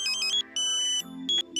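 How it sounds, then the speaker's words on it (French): Electronic lock tone from a satellite dish pointing tool during fine elevation alignment of a KA-SAT installation: steady high beeping tones, one sustained and others in short repeated bursts, loud and close with no talk. "La tonalité d'ambulance, puis la tonalité de verrouillage."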